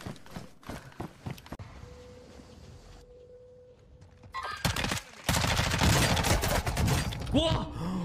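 Gunfire in The Division's Dark Zone: scattered sharp shots early, then dense loud bursts of automatic fire in the second half, with a voice reacting over the shooting.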